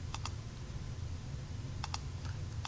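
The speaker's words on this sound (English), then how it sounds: "we're just going to type that into our calculator" Calculator buttons pressed in two quick pairs of clicks, separated by a pause, over a steady low hum, working out an inverse cosine for a geometry problem.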